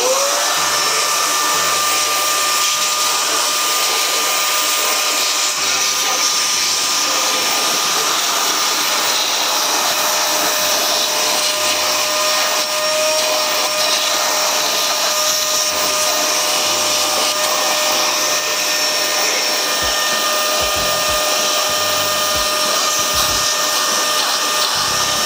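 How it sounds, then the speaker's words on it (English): A vacuum cleaner cleans out a desktop PC under repair, running as a loud, steady, close whine for the whole stretch without a pause. "time to vacuum."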